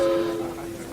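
A steam train whistle sound effect at a railway-themed club, a brief steady two-tone blast that fades after half a second against a murmur of background noise.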